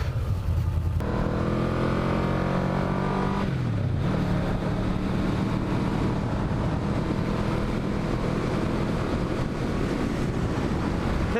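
A 1986 Yamaha V-Max 1200 motorcycle is ridden, its engine revving up through the gears and then droning steadily under heavy wind rush, close and loud with no talking.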